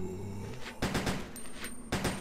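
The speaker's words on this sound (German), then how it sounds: "Zum Glück haben wir diesen Dreifachschuss." Triple-shot weapon firing in Resident Evil Code Veronica X, heard as several sharp, loud bursts of gunfire about a second apart over a low game background hum.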